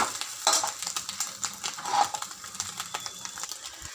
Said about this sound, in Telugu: ఇది బాగా వేపుకోవాలి, మనకు పొడి పొడిగా రావాలి, అలా వేపుకోవాలి. చూడండి వేగుతుంది.